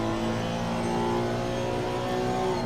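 Race car engine in Assetto Corsa Competizione at Monza, a steady loud drone as the car accelerates back onto the gas, continuous and close with no voices.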